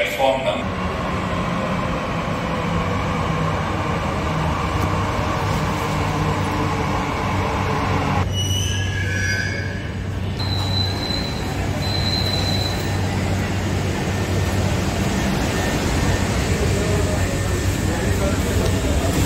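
Steady rumble of a Mumbai Metro Line 3 Aqua Line train running underground between Seepz and MIDC, heavy continuous wheel and motor noise throughout, with a short quieter stretch and a few high squeals or chimes near the middle.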